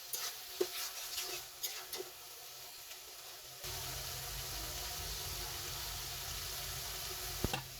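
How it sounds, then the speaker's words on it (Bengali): Masala with mustard paste and chopped tomato sizzles in a frying pan for a katla fish curry, a steady soft hiss that grows louder midway, with occasional stirring knocks and no talking. "তারপর সরিষা বাটাটা দিয়ে মশলার সাথে ভালোভাবে কষিয়ে নিচ্ছি।"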